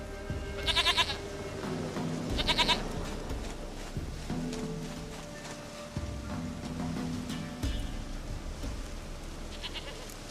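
A goat in The Witcher 3 video game bleats repeatedly, two strong close bleats early followed by fainter ones, over low game ambience.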